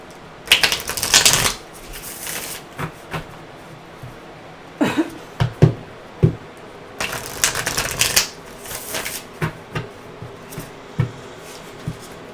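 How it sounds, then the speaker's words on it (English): Tarot cards are shuffled and handled in several quick bursts of riffling and flapping, close and crisp, separated by quieter taps and card placements. "I'm pulling out my feminine cards."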